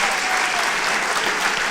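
Steady audience applause at a school band pops concert, a dense wash of many hands clapping continuously and loudly, with no pauses or voices standing out.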